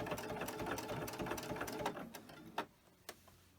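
A sewing machine stitches a zipper onto a coin purse, whirring in a steady fast run up close before it slows and stops, followed by a couple of soft clicks.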